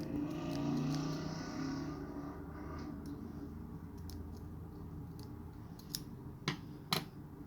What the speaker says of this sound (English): Just gotta give it a little cut right there.